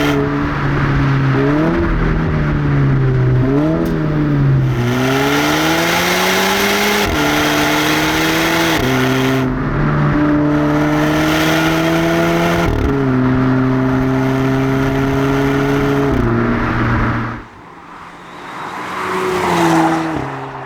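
Volvo V60 Polestar in sport and manual mode, its engine loud and close as it revs hard through repeated gear changes with rising pitch sweeps, then briefly lifts off near the end before building again.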